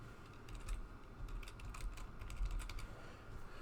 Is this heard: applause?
no